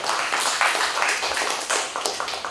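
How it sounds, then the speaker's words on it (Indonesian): Applause from an audience at an official event honoring a city mayor, a dense, continuous patter of many hands clapping, fairly loud and sustained. "hadiah terindah kita berikan tepuk tangan kepada Wali Kota kita yang luar biasa"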